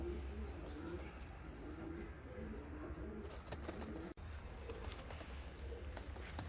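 Fancy and costume pigeons coo softly in a loft, low repeated coos with occasional chirps and a brief wing flutter, fairly faint and close.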